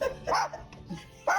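A parrot imitates a barking dog, giving two or three loud, close bark-like calls with short gaps between them and no talking.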